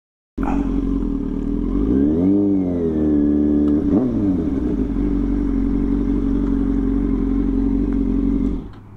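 A motorcycle engine starts and idles loudly up close, revving up twice with rising and falling pitch before settling back to a steady idle and cutting off, no talking.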